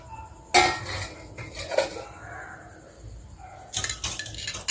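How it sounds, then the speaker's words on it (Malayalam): A metal spoon stirs food colour into kesari in a pan, with sharp scraping clinks and knocks against the metal in a few bursts and quieter scraping between them, close and without speech. "നമുക്ക് നന്നാന്ന് മിക്സ് ചെയ്ത് കൊടുക്കാം"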